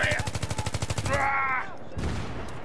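Rapid automatic gunfire in the video game Battlefield 3, a fast even burst of about a dozen shots followed by a whining blast tail and a duller thud, loud and close.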